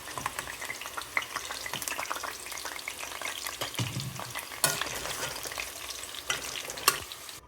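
Potato pieces frying in hot oil on an old stove, sizzling steadily while utensil scrapes and clinks sound now and then as they are lifted out, close and fairly soft with no talking.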